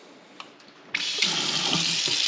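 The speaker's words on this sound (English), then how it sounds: "The faucet that we use is a Pfister faucet." Pfister pull-down kitchen faucet in a barndominium kitchen island sink, turned on after a faint tap, then a steady close rush of running water splashing onto a metal sink grate.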